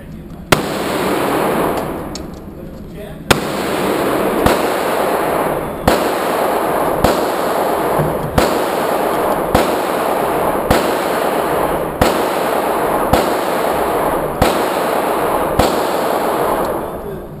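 A Smith & Wesson .40 caliber pistol fires about a dozen loud, sharp shots at an even, unhurried pace, each crack followed by a lingering ring.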